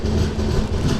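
A Kacheguda–Mysuru SF Express with LHB coaches rolls slowly, giving a steady, close low rumble with faint wheel clatter throughout, no voices.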